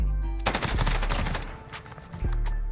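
Sustained bursts of LMG fire from the Encryption MK9 light machine gun in Modern Warfare, a rapid rattling stream of close, loud shots that starts after a brief pause and carries on to the end.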